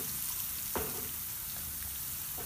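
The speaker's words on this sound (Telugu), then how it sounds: "ఒకసారి క్యాబేజ్ వేగాలి" Cabbage frying in a pan, a soft steady sizzle with a couple of brief stirring scrapes, fairly quiet and close, no talking.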